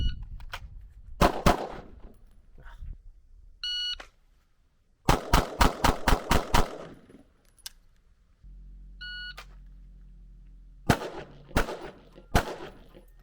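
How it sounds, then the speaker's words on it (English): An Echelon 4.0C compensated pistol fires several sharp strings of rapid shots separated by pauses, with short electronic timer beeps and a steady low hum between strings. "Shooting the Echelon is actually pretty pleasant, and I was able to stay in the optic as I was shooting longer strings of fire"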